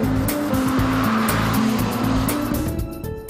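A car at a racing school powering through a corner, the engine droning loud and close with stepped rising and falling pitch as the throttle opens, broadband tire and wind noise over it, no talking.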